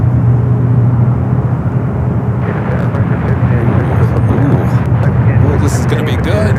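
Jet airliner on its departure roll from runway 28 right at San Francisco International Airport, a loud steady engine roar filling the scene with a low hum beneath, while a person talks over it.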